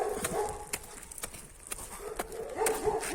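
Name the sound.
dogs barking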